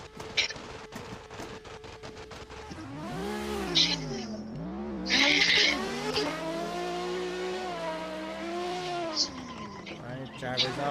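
Race car driven by Poppy drifting at a street-spec drift competition at ESDA, with revving engine and squealing tires rising and falling, loud and close, under continuous commentary.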